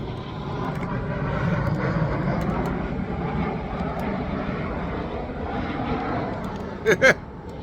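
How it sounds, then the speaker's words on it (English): A fixed-wing airplane passes overhead in Inglewood with a sustained, fairly close engine roar that rises and lingers, broken by a couple of sharp clicks near the end. "Airplane going by."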